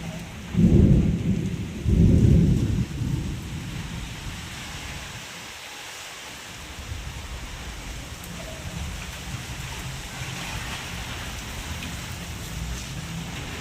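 Steady rain pours down during a strong storm while two deep rumbles of thunder roll through near the start, then the rain continues with a soft hiss.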